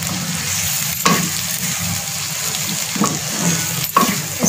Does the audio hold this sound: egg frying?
yes